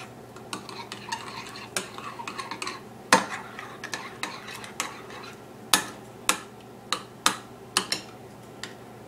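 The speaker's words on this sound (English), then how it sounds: "And you just want to mix that together." A spoon or fork beats sugar, egg and sour cream in a mug, with bright clinks and scrapes against the sides at an uneven pace that turns into steadier louder taps, close up and with no talking.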